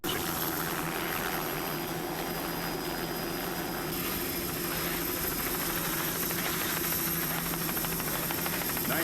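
An offshore racing powerboat at the 1998 New Jersey Offshore Grand Prix off Point Pleasant Beach, run by E&R Performance Marine, gives a loud, continuous engine drone that holds steady for the whole stretch.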